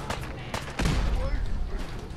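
Gunfire in Fallout 4, a few sharp shots followed by a heavier burst of firing that holds steady to the end, mixed with game sound and a voice talking over it.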